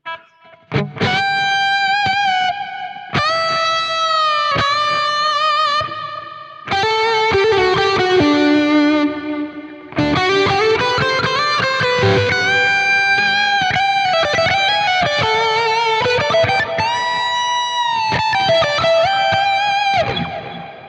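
Electric guitar through a Quad Cortex unit plays sustained notes and chords, each ringing out into a wash of echoing delay and spacious reverb, with no voices.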